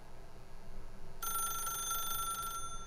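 A telephone in the video game The Stanley Parable rings in one bright, sustained burst lasting about a second, over a low, steady room hum.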